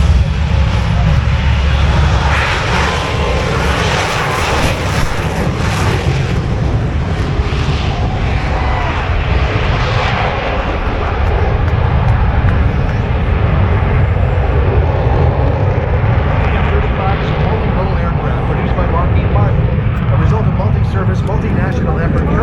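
An aircraft flies at the Capital Airshow at Mather Airport, a loud sustained engine roar that swells and fades slightly while an announcer talks over it throughout.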